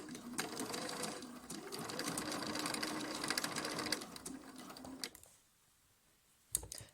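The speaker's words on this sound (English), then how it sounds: "Needle down and I begin sewing." A sewing machine is stitching quilt fabric in a fast, even whir of needle strokes that runs near and steady for about five seconds, then stops, leaving a brief quiet and one late clack.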